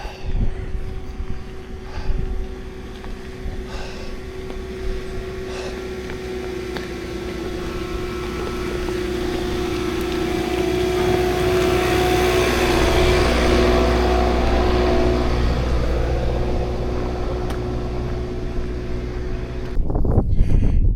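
A lawn mower works a golf course on the South Downs, a steady engine drone that swells as it draws closer and then fades, heard outdoors with wind noise.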